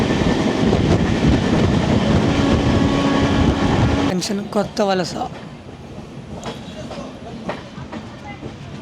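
The Araku mountain railway train rumbles and clatters loudly for about four seconds near Kothavalasa junction, then the roar drops and a person talks over fainter rolling noise.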